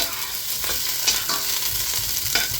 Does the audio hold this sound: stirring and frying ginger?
yes